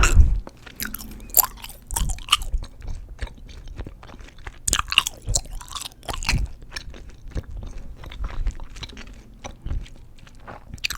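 Gum chewing up close, with wet smacks, squishes and clicks in an irregular rhythm over several seconds, fairly loud and intimate, with no talking.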